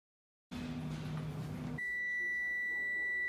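A kitchen timer set for 15 minutes while a pot cooks on the stove goes off. Noise from cooking comes first, then a sharp, sustained electronic beep rings out clearly to the end.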